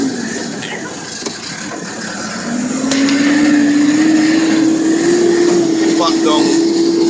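Cat backhoe drives on a road with a rising engine drone that climbs in pitch and loudness as it accelerates, then holds steady, with faint knocks and rattles over the continuous motor sound.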